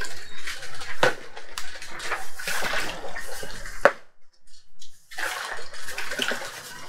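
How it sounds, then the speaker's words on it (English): Warm water splashing and gushing into a container to make a salt brine, loud and close, with a brief pause before the pouring resumes. "I got warm water in there so that my salt will dissolve quicker"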